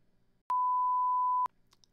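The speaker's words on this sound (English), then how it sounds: "This is a WAV file of a monaural 1 kHz sine wave." A monaural 1 kHz sine wave tone from a WAV file sounds as a single pure, steady beep lasting about a second, starting and stopping abruptly against near silence.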